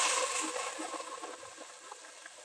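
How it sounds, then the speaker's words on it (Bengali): Splash of a little water poured into browned onions and spices in a cooking pot, a soft hissing sizzle that starts strongest and then settles into a quieter, steady crackle, no speech over it. "এখন অল্প পরিমাণে একটু পানি দিয়ে দিচ্ছি মশলাটা যেন না পুরো যায় আর কি"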